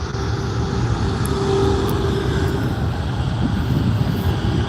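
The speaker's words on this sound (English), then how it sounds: "Austrian Airways headed out now. 777." An Austrian Airlines Boeing 777 jet departs at LAX, a broad, steady roar of engines heard from a distance, constant and rumbling with no talking over it.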